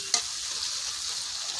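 Chicken curry being stir-fried in hot oil in a pan, a steady close sizzle throughout with one short louder stir or clink near the start.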